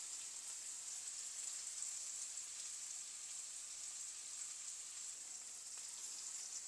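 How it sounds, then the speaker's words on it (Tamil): Bitter gourd pieces frying in oil in a pan, a steady, soft, continuous sizzle with fine crackle throughout, fairly faint and uninterrupted, with no talking. "அடியில் கொஞ்சம் பொரியும் போது திரும்ப மேலால் கிளறி விடுவோம்."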